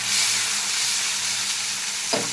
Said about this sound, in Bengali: আলুটাকে একটু ভেজে নিচ্ছি আমি